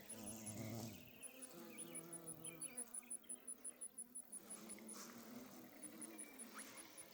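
Insects buzz around a flowering chaste tree in a garden, a faint outdoor hum with a rapid, regular high chirping pulse running through most of the stretch.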